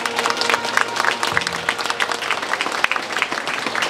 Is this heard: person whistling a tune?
no